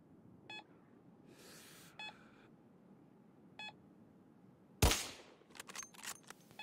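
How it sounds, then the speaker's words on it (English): A suppressed M98B sniper rifle fires once in Battlefield 4, a sharp muffled crack followed by brief rattling echoes, preceded by three soft evenly spaced electronic beeps and a short hiss. "And here's the shot using the suppressor."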